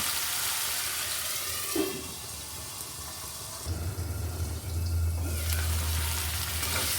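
Potatoes frying in a covered pan with a little salt, a steady broadband sizzle that swells louder in the second half, with faint clinks and a low hum underneath.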